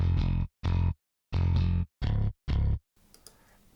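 Five sustained synth bass notes from a Nocturnal bass patch with a warm, buzzy tone, played in a short loose phrase, each note cutting off cleanly, followed by faint background hiss.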